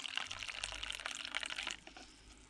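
Hot water poured out of a container of soaking plastic plugs during brass scrapping, a quiet, steady splashing trickle that fades toward the end.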